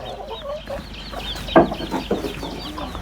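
Chickens cluck in a farmyard with ducks kept alongside: a steady stream of soft, overlapping clucks and chirps, with one louder, sharper call briefly standing out midway.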